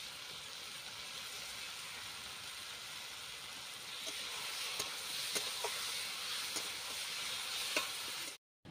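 Cumin and coriander paste goes into a pan of rohu fish curry with corn, giving a faint, steady sizzle and hiss with a few light stirring clicks toward the end, and no voices.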